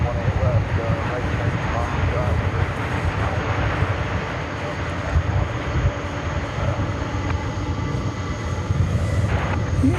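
Steady, loud roar of an airliner's jet engines during a night takeoff run from DFW Airport, a broad rumble holding through the whole stretch, with a voice talking over it at times.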